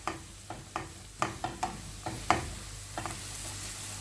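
Finely chopped onions with salt sautéing in a pan for egg curry, a soft sizzle under a run of spatula scrapes and taps at a steady rhythm, close but fairly quiet.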